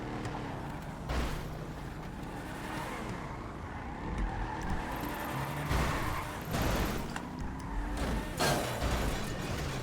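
Cars in the video game's Mansions DLC repeatedly ram one another, with engines revving, tires squealing and sharp impact crashes recurring every few seconds under a steady roar.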